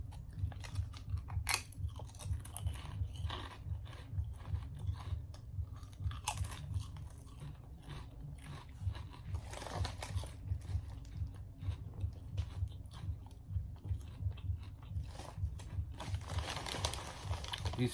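Crunchy chips, said to taste like Pringles, eaten close to the mic: a steady run of crisp bites and chewing crunches over a low background hum, with no talk.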